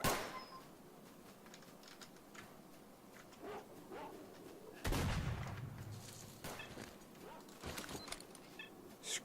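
Gunfire crackles through a STALKER: Shadow of Chernobyl firefight, sharp shots scattered across the scene with a heavier close burst midway, mixed with other game sounds and occasional voice.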